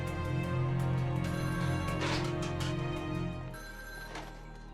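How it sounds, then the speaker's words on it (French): A telephone bell rings repeatedly in a steady electronic trill, fairly close and clear, with a low hum underneath and no talking. "Et puis son téléphone sonne."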